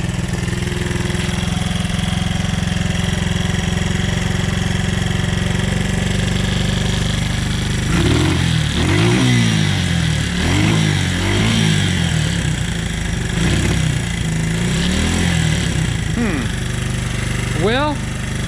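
Classic Honda CB125S barn-find motorcycle, slightly flooded, running on a steady idle that swells into several rising and falling revs, with a voice talking throughout.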